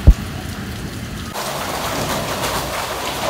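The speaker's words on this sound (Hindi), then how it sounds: "तेज बारिश शुरू हो गई।" Heavy rain pours down steadily, a dense hissing wash that swells louder partway through, with a brief thump at the start.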